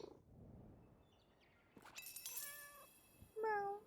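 A cat named Sushi meows close by, giving a couple of short, rising mews at a quiet level, with faint room noise before them.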